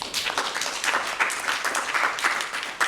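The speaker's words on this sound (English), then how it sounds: "Can we give her a round of applause?" An audience applauds a speaker at an arts-festival panel discussion, a full, even round of clapping from a sizable crowd that holds steady for a few seconds.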